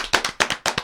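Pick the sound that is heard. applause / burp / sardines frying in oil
applause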